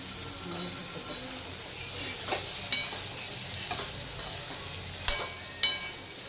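Okra sizzles faintly in a frying pan while a spoon scrapes and stirs it, giving a few sharper clicks against the pan over a soft, steady frying hiss.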